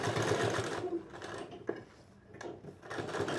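A sewing machine runs a stitch line around buckram on a collar, a close steady mechanical whirr that pauses briefly midway before resuming, with no voices.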